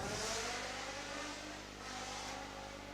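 Classic Chevron race car at a hillclimb, heavily modified with a lot of electronics, its engine revving hard and loud throughout without a break, holding a steady roar that dips slightly midway.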